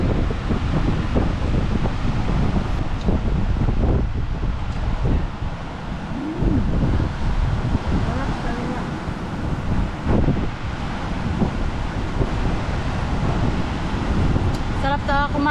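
Seaside wind buffets the microphone in a steady, loud rush with rustling gusts throughout, while people talk underneath during an outdoor meal by the shore.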